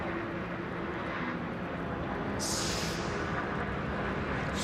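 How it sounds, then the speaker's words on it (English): An aeroplane takes off near the Daytona racetrack during the 24-hour race, a broad steady roar with a brief hissing surge partway through, loud and continuous. "There's an aeroplane taking off."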